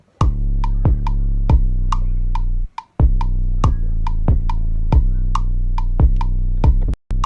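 A GarageBand beat of a repeating kick drum pattern with deep, sustained 808 bass tones beneath it, loud and steady with crisp clicky attacks, briefly dropping out once before resuming, with no voices.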